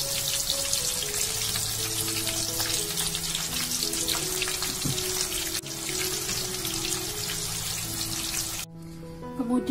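Thinly sliced cassava chips fry in hot oil, a dense steady crackling sizzle that runs nearly unbroken for about nine seconds before cutting off abruptly, with faint background tones.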